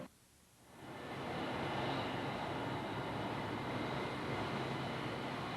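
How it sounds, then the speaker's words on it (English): Boeing B-52 Stratofortress bomber of the Strategic Air Command, a loud steady jet engine roar that swells in within the first second and holds as a broad, continuous rumble. "these later models of the Boeing B-52 range are still in operation with the Strategic Air Command"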